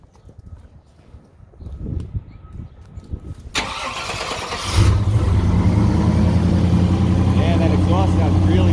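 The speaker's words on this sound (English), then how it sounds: "Can you fire it up?" A 1992 Chevrolet 454 SS pickup cranks and its V8 catches, settling into a loud, steady idle close by after a quiet stretch with faint background talk.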